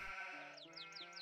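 Sheep bleating in the PC strategy game Anno 1503, a wavering, quiet bleat followed by a few short repeated calls over faint game ambience.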